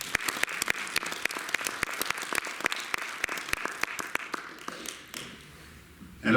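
An audience applauds a just-finished literary reading at a book event: a thin, moderately close patter of individual claps spread evenly over several seconds, thinning out toward the end before a brief closing burst.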